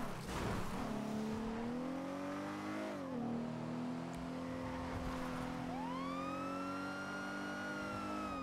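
A wailing ambulance siren from a roleplay driving video game sweeps up and down continuously over a rumbling, revving vehicle engine, steady and fairly close throughout with no talking.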